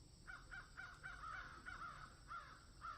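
Crows caw outdoors on a nice day, a faint series of about ten harsh calls in an uneven rhythm, heard at a distance over a steady low background hum.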